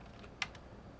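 A single quiet keystroke tapped on a computer keyboard, one brief click standing alone in near silence.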